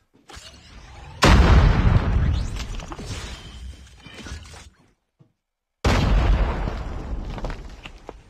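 Grenade blasts in a Call of Duty battle royale match: two loud, booming explosions, the first followed by a long rumbling decay, separated by a brief near-silent gap before the second hits.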